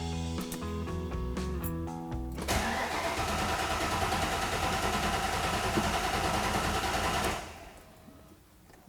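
A 1990 Ford Fox Body Mustang engine cranks steadily for about five seconds with a rapid, even starter churn, then stops without catching, leaving quiet background hum.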